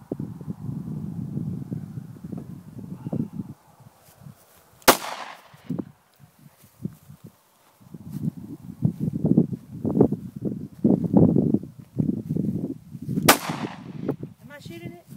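Two sharp, loud gunshots from a Glock G26 pistol ring out at a range several seconds apart, each standing out against rustling, shuffling and low voices in between.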